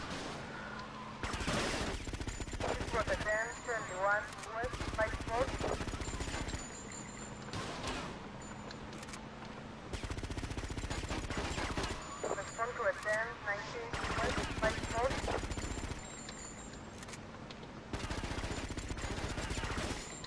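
Bursts of rapid gunfire from the video game GTA Vice City come in repeated volleys with short pauses, dense and fairly loud, with game sound effects mixed in.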